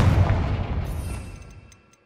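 The Confringo explosive spell cast in the video game Hogwarts Legacy: a single heavy booming blast that rolls and fades away over about two seconds, with no voices.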